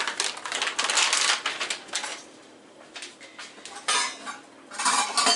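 Frozen raspberries dumped from a package into a bowl for a raspberry pie, a run of hard clattering clicks and rattles in a few uneven bursts, close and fairly loud.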